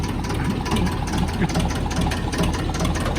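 Vehicle engine idling steadily at close range, a loud continuous low rumble throughout with no clear start or break.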